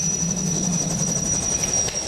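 A helicopter just landed at night at Le Bourget airport, its steady engine whine and rotor hum continuous and fairly loud, no talking.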